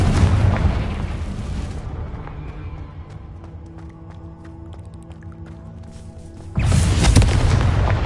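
Confringo fire-blast spell exploding in Hogwarts Legacy, a loud deep boom with rumbling burst, a quieter stretch of lingering effects, then a second heavy blast near the end.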